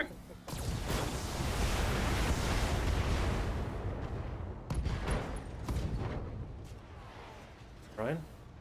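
Mech weapons from the BattleTech video game unleash a loud, sustained barrage that rumbles and crackles for several seconds and then tapers into scattered impacts, with a voice briefly speaking near the end.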